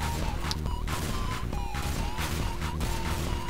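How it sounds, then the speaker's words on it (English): Shotgun blasts in Counter-Strike GO, heavy cracking shots bursting repeatedly over a dense, continuous wash of in-game noise. "Shotgun wars! Oh, I won the shotgun wars!"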